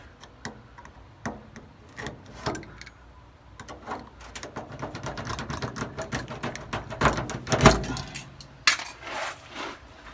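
A razor knife cuts out part of a rusty VW bus, giving scattered sharp ticks and scrapes that thicken into a denser run of close cutting and clattering noises, with no speech.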